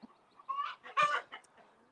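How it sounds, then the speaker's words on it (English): A white rooster on a small farm clucks in a few short throaty bursts, close and fairly clear against quiet surroundings, with brief pauses between calls. "And then this white rooster"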